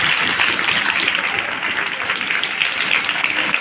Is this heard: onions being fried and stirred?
no